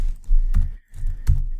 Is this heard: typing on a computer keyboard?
yes